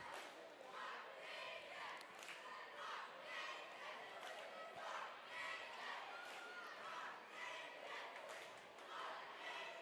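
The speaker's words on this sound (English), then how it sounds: "We have a dreaded cheer-off to end the game." Cheerleaders perform a cheer-off at the end of a varsity girls' basketball game, a steady wash of shouted chants and crowd noise in a gym, loud and continuous with rhythmic pulses throughout.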